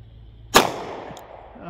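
A single sharp gunshot firing a Federal HST round at a target outdoors, loud and close, followed by a short decaying echo and a faint metallic ping.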